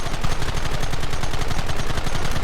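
Rapid gunfire in Red Dead Redemption on Xbox 360, a loud, dense, evenly spaced burst of shots that keeps hammering without a break.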